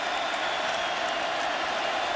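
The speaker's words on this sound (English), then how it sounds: "Crowd getting louder." A football stadium crowd roars in a steady, dense wash of cheering and applause that swells continuously, loud and broad with no break, at a 2009 college game between BYU and Oklahoma.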